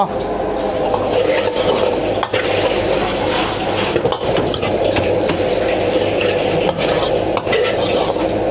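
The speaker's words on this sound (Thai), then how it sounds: "ผัดต่อ" Pork being stir-fried for Thai khua kling in a pan, constant sizzle with repeated scraping and clanking of a utensil against the pan, a voice speaking over it.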